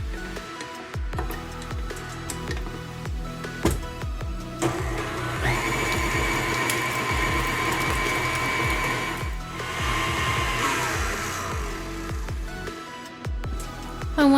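Electric mixer whisking vanilla cake batter for a Black Forest cake, a continuous motor whine with rhythmic beater clatter against the bowl, loud and close, pitch shifting slightly as the batter thickens.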